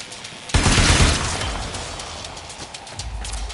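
A sudden loud explosion in a video game set on Deimos bursts out with a heavy crash, then rumbles and crackles as debris falls and the blast slowly fades.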